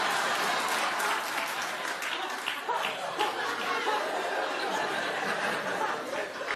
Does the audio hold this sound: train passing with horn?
no